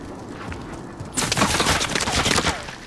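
Gunfire in a shooter video game bursts in after a quiet second and keeps crackling as a dense, loud fusillade of rapid shots for the remaining two seconds, with faint voices under it.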